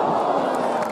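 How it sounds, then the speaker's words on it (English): At a Halesowen Town play-off final football match, the crowd roars and cheers in a dense, loud, continuous wall of voices for about a second. "Halesowen crowd getting behind the team."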